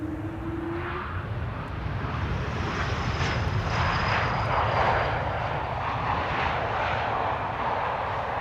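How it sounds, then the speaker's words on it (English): A KLM Embraer 195 E2 jet, flight 1930, rumbles past at an airport, a steady broad engine roar with a rising whine that swells toward the middle and holds loud and near to the end, with no talk over it. "E2 Embraer 195, KLM flight 1930 with a nice carry cabin in the back."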